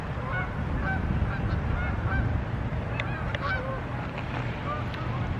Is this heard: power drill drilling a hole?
no